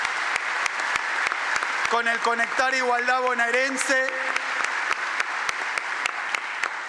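A large crowd gives sustained applause for a speech by a governor as he takes office for a second term. The dense clapping runs loud and steady throughout while someone talks over it.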